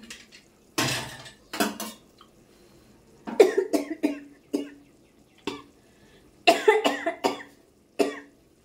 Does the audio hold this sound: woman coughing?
yes